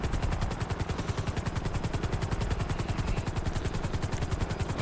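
Helicopter in a flight video game, a loud, close, rapid, evenly spaced thumping of rotor blades pulsing steadily throughout with no talking.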